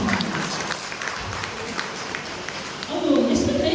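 An audience at a Kannada Sahitya Parishat literary evening closing ceremony claps in sustained applause, with a voice speaking over it near the end.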